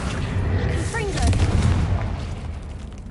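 A Confringo spell blast in Hogwarts Legacy goes off as a loud, booming burst, rolling low and dense before fading, with the tail of a spoken incantation over the start.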